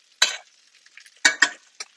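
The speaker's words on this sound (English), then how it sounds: "what we're really doing is just caramelizing the beef and warming it up" Sous vide short ribs of beef caramelize in a pan, heard as short, close bursts of crackling sizzle, three or four separate spurts with near silence between them.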